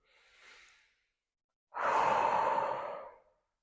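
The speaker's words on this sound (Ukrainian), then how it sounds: "Давайте спробуємо вдих." A deep diaphragmatic breath during a pelvic floor exercise: a soft, brief airy intake, a short pause, then a longer, louder breath flowing out, close and alone.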